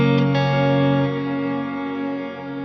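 An electric guitar played through a reverb pedal set to a mode without modulation, with a sustained chord ringing into a static, even wash of reverb that slowly fades.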